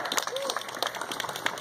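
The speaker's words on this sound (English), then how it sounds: "I'd also like for you to give another round of applause" A rally crowd in Montgomery gathered to call for Roy Moore's removal claps in a dense, moderately loud round of applause, with a voice carrying over it.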